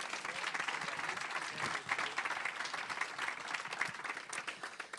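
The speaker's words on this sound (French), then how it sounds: "On peut les applaudir d'ailleurs." Audience at a Sherbrooke tiny-house conference applauding its partners, a dense and sustained round of clapping from a crowd throughout.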